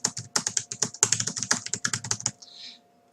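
Fingers type quickly on a Zoweetek ZW07 Bluetooth keyboard with quiet, non-clicky keys, a close run of soft taps in uneven bursts that ends in a brief slide or shuffle.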